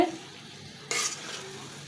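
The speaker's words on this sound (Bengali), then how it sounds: "এরকম নাড়াচাড়া দিতে দিতে এটা অনেক ঘন হয়ে গেছে" Thick chana dal halwa stirred in a pan, a single scraping stir that swells briefly then settles back into a soft, low sizzle, close and alone.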